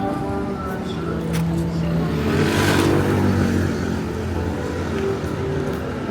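Cars in busy London street traffic on a December night, a steady close engine rumble with a vehicle swelling past mid-way, all under continuous background talk.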